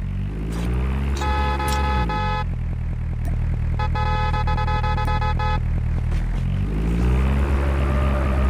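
A steady propeller drone from an airdrop plane passing overhead in Call of Duty Mobile, continuous and fairly loud, with tonal bursts layered on top and no talking.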